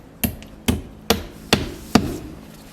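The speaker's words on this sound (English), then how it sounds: "tack this in place with these nice little plastic cap nails" Five sharp, evenly spaced hammer blows drive plastic cap nails through housewrap on an A-frame cabin wall, each strike crisp and close with a short ringing decay.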